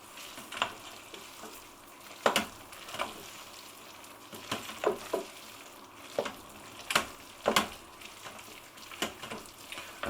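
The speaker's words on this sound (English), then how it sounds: "it's essential to give everything a really good stir at this point, which Paul is going to do" Green lentil curry gets stirred in an Instant Pot, with soft scraping and sloshing strokes repeating irregularly over a faint hot sizzle, heard close and fairly quiet.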